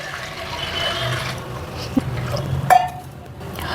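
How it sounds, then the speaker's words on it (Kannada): Water pours into a pressure cooker holding sprouted horse gram in a home kitchen, a short, soft splashing trickle followed by a couple of faint clinks of the metal vessel. "ಸ್ವಲ್ಪ ನೀರು ಹಾಕೋಬೇಕು."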